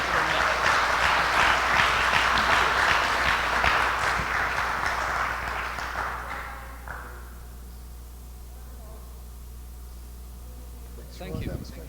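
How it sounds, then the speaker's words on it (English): An audience applauds a speaker at a financial resilience talk, a loud burst of clapping that gradually fades away after several seconds, leaving quiet room tone before a brief noise at the end. "huge round of applause for Roy"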